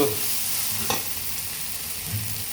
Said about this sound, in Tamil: அப்படியே கிண்டிக்கிட்டே இருங்க